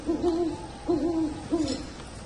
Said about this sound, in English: I was about to try and talk to the owl.